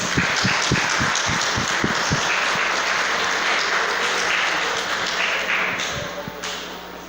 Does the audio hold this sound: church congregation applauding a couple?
yes